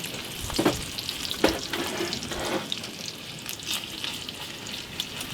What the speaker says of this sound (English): can't learn to fry eggs on a wood stove without burning a couple